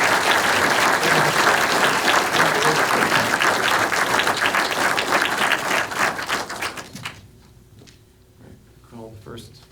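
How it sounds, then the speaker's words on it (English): A crowd applauds a guest of honor at an evening tribute event, with dense sustained clapping that fades after about seven seconds, followed by scattered voices and a few speaking sounds. "Give me a round of applause."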